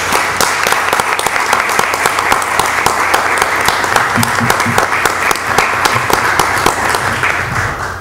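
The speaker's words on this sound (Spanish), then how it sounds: "Voy a pedir un aplauso muy fuerte por la Municipalidad de Miraflores." At a municipal council session for Miraflores, a room full of people keeps up loud, dense applause for the whole stretch, with rapid overlapping claps and no pause.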